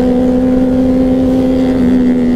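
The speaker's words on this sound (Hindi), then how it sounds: "और शोर मचाती है वाली जिक्सर भाई" A Suzuki Gixxer motorcycle with a loud aftermarket dual barrel full-system exhaust idles and revs close by, giving a steady, strong droning engine note that holds throughout with no talk.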